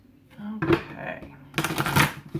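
Tarot cards from the Mystical Wisdom deck are shuffled up close in two short riffling bursts, separated by a moment of quieter handling.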